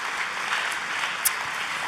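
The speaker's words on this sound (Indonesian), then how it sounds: "Kita kasih tepuk tangan yang paling meriah." A church congregation breaks into enthusiastic applause, a dense, steady wash of many hands clapping that fills the whole short moment with no one speaking over it.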